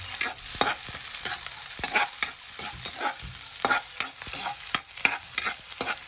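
Garlic sizzles and crackles steadily in a hot pan, with scraping stirs and occasional sharper pops, close and fairly loud, no talking.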